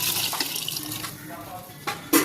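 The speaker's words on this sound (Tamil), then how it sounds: "ஒரு சொம்பு தண்ணி" A vessel of water is poured into a pan of vegetable kurma kulambu that holds sautéed vegetables and ground coconut paste. Steady splashing pours for about two seconds, with a couple of brief louder gushes near the end and faint talk in the background.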